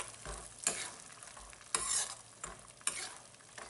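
Walnuts and cashew nuts dry-roasting in a hot pan, stirred in a few distinct scraping bursts with quiet sizzle between, close and fairly soft, no talk.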